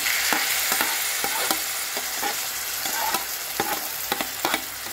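Tomatoes dropped into hot oil with onions and ginger-garlic paste for a curry, frying with a steady close sizzle while a spoon clacks against the pan in repeated stirring strokes, no voices.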